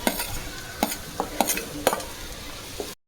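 A spoon stirs cabbage, corn and ginger-chili paste sizzling in oil in a pan, sharp scraping knocks repeating every half second or so over a steady close frying hiss.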